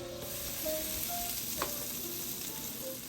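Pieces of chuck roast go into a hot skillet with a steady, close sizzle and frying hiss, a few light clicks and stirring touches over it, no talking.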